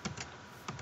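Computer keyboard typing during a gaming session, heard as a few quick clusters of key clicks, quiet and close, with a pause between bursts and no voices.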